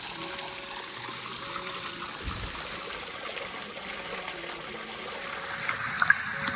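Mountain spring water flows steadily at hot springs with man-made pools, a continuous soft trickling and streaming wash heard close by with no talk.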